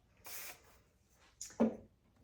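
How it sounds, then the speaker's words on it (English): Texture spray misted over styled hair for a half-up, half-down look: two short aerosol hisses, the first about a quarter second long and the second briefer and followed by a soft brushing rustle, close and fairly quiet. "I'm gonna use some texture spray over the top"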